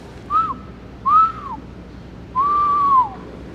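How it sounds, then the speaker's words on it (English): Someone whistles into a deep old well: three clear, sustained whistled tones, the first two short with a downward slide, the last longer, each ending in a falling pitch, close and loud over quiet background. "Let me try a whistle into it."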